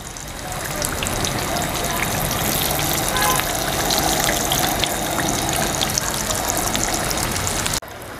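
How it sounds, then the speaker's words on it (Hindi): Aloo pyaz kachoris deep-frying on low heat in oil give a steady, dense sizzle with fine crackling that holds evenly throughout and cuts off sharply near the end. "यहाँ पर हमारी कचौरियाँ जो है अच्छी तरीके से फ्राई हो रही हैं।"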